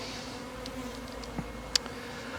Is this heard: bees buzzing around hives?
yes